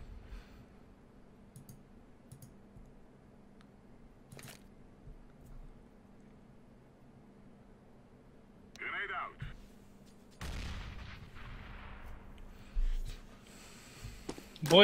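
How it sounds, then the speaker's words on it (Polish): A flashbang grenade goes off in Counter-Strike: GO, one sharp broadband bang with a fading ring, after a stretch of quiet game ambience and faint clicks. "Rzucam granat błyskowo-hukowy."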